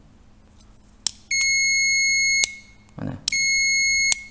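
A continuity tester on a pass-through (two-way) light switch gives two loud, steady electronic beeps, each starting with a click as the switch contacts connect; someone speaks briefly between them.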